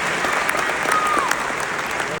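An audience applauds steadily at a live event tied to a Khabib Nurmagomedov interview, with dense continuous clapping at an even level throughout and a brief dip just before the end.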